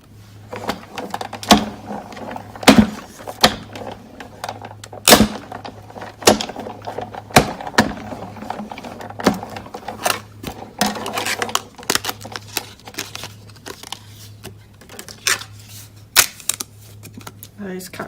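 A Big Shot die-cutting machine cranks a large stitched framelit and shimmery white card through, giving a run of uneven clicks, knocks and grinding rattles close by over a steady low hum, with faint handling noise between.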